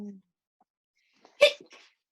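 A brief, sharp sneeze sounds near the microphone during a quiet online meeting, after a short spoken word and a long pause.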